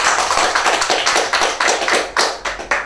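Rhythmic clapping at a graduation and CSEC awards ceremony, loud and close, with sharp repeated claps in a quick regular beat that builds toward the end.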